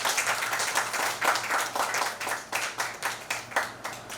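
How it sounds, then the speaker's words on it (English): An audience applauds actress Divya Dutta at a press conference for the 13th Kashish Mumbai International Queer Film Festival, steady dense clapping throughout with a few louder bursts, fairly close and sustained. "A big round of applause, ma'am."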